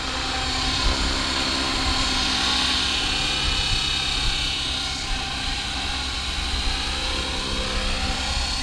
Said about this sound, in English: Well, what a beautiful helicopter.